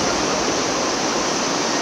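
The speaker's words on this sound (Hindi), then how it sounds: "शांत ये नदी की आवाज़ इतनी खूबसूरत, इतनी प्यारी लगती है।" A mountain river rushes steadily near the trail to Chandrashila peak, a loud, unbroken wash of water noise with no gaps and no voices.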